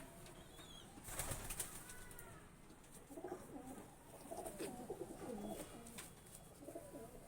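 Male Madras pigeons give soft, repeated bubbling coos nearby, building in the second half, with a brief flutter of wings near the start and no voices.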